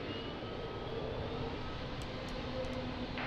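Airliner taking off from runway 02 at Lisbon Airport on a windy day, a steady distant engine roar with wind noise throughout.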